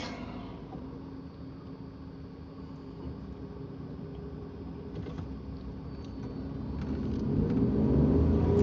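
A car drives past a police station, heard from inside as a steady low engine and road rumble that grows louder and rougher near the end as it accelerates.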